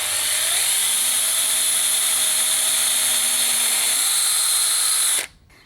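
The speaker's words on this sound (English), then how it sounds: "take the drill to drill the pilot hole" A power drill bores a pilot hole into a door with a loud, steady high whine. The motor pitch shifts partway through, then the sound cuts off abruptly near the end.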